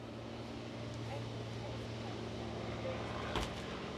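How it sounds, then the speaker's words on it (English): Steady crowd hubbub fills a busy boat show around a Horizon PC60 yacht, a dense, even wash of indistinct voices with a low constant hum underneath and a brief louder bump near the end. "we're at a boat show. There's quite a lot of hubbub."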